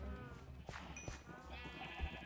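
Sheep bleat in a Minecraft game, a couple of short wavering animal cries over a low, quiet background hum.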